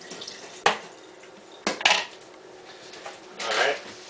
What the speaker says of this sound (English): I'm going to rinse this plate off